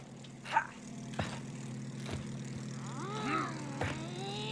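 Propeller airplane engine in the It Takes Two video game, a steady droning hum with intermittent thumps and whooshing game effects layered over it.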